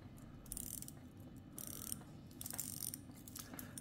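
Stiff rotating bezel on an Addiesdive MY-H6 dive watch being turned, giving faint, close ratcheting clicks in irregular bursts over a soft background hiss, with no talking.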